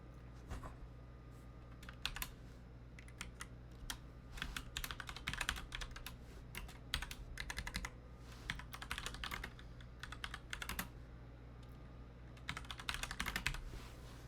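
Quiet, irregular bursts of clicking on a computer keyboard, with short rapid clusters of keystrokes separated by brief pauses, heard alone against a faint steady hum.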